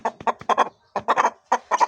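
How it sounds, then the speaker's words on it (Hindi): A rooster with a mildly sore throat clucks in rapid, rough bursts of several clucks each, close and loud, separated by short pauses, with no talking. "मुर्गा है जिसका भी गले में हल्की फुल्की आवाज़ है, ये चेक करें इसकी आवाज़।"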